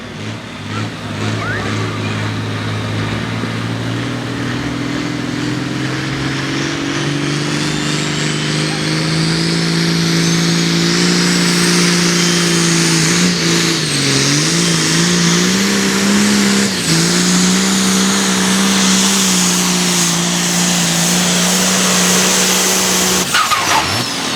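A pulling tractor roaring down the track at a tractor pull event, the engine loud and close with a sustained heavy drone that rises and wavers in pitch, tires biting, while an announcer talks over it.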